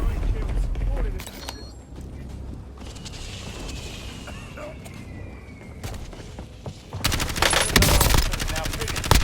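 Automatic gunfire and explosive bursts in a Call of Duty Warzone match, rattling near and loud in clusters, building to a dense heavy volley at the end, with in-game voice callouts mixed in.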